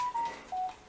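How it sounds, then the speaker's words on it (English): A phone gives a short notification chime, two brief tones and then a lower tone, faint and close, in under a second with no talk. "That's just my phone."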